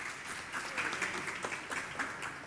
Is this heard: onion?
no